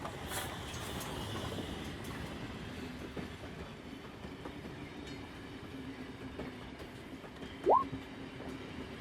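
A train rushing along at speed as tabletop game ambience, a steady low rumble with faint rail rattle throughout and one brief rising whistle-like squeal near the end.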